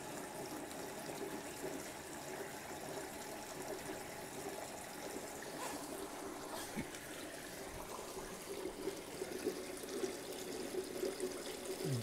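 Strong water flow from a 3000-gallon-per-hour aquarium return pump feeding a roller filter on a 20-gallon tank and sump, a steady loud gushing rush throughout with no talk.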